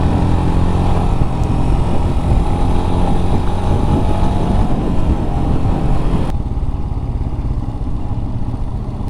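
A Royal Enfield Scram 411 motorcycle rides through bends in third gear around 20 mph, its engine droning loud and steady with wind rush, easing off into a lower, quieter tone near the end.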